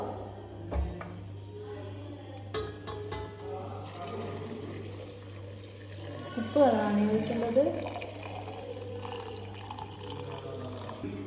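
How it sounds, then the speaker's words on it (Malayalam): Salt water pours steadily into a jar of green grapes for pickling for a few seconds, a gurgling trickle heard under a woman's ongoing speech and a low steady hum. "നമ്മളിത് ഇതിലേക്ക് ഉപ്പ് വെള്ളം ഒഴിച്ചതിന് ശേഷം"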